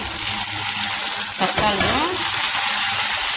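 Tomatoes tipped into a pan of browned frying onions, giving a brief splash and burst of sizzle midway over a steady background frying hiss, with a faint voice underneath.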